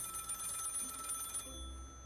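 A telephone rings in the game Lil' Guardsman, a bright rapid trilling bell that stops abruptly partway through, leaving a low hum.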